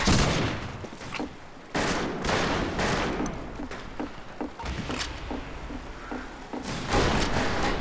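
Gunfire in the Western shooter Fistful of Frags: a rapid string of sharp shots and volleys spread across the clip, loud and close, with steady background game noise and no talking.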